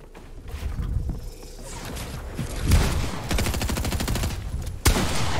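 Rapid gunfire in a shooter game cracks out in quick bursts, with a louder single shot and a sharp boom near the end, close and punchy, with no talking.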